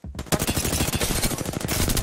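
Automatic weapon fire in an Apex Legends match: loud, rapid bursts of gunshots in quick rhythmic succession that start abruptly and continue almost nonstop, heard alone without voices.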